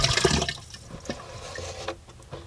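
Water poured into a van's windshield wiper fluid reservoir, a short burst of splashing and gurgling liquid that fades into a quieter trickle, close by.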